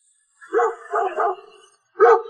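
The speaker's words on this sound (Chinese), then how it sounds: "哪来的臭狗，叫什么叫，滚一边叫去。" Cartoon dog barks three times in quick succession, loud and close against a silent background, the first two close together and the third after a short pause.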